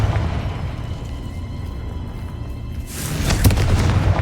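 A Confringo spell bursts in Hogwarts Legacy with a sudden booming explosion after a stretch of low rumble, loud and close, followed by crackling debris.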